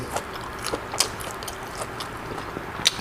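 Someone bites and chews homemade Thai crispy pork belly served with som tam, making close, crunchy bites and a few sharper crackles, with no talking.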